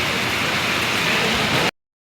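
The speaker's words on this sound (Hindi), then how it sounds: "बहुत बारिश आ चुकी है और अभी सुबह का टाइम है" Heavy morning rain falls as a loud, steady broadband hiss, continuous and close, before cutting off abruptly into silence after under two seconds.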